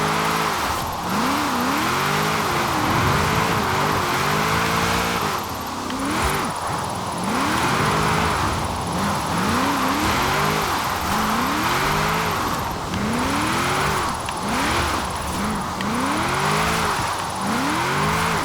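A 1994 Nissan Fairlady Z Version S twin turbo AWD in Forza Horizon 4 revs repeatedly in rain, engine notes climbing and falling in a steady cycle of loud, close, rising sweeps.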